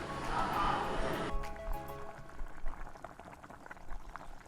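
Corn and shrimp broth soup in a pan, a loud bubbling boil at first that drops away to a softer simmer, with low clatter and faint background noise after.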